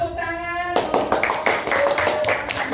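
A class claps hands together in a brief burst of many hands after a short tone, close and dense, with voices mixed in.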